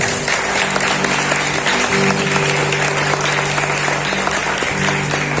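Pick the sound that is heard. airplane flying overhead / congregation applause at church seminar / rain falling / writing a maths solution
congregation applause at church seminar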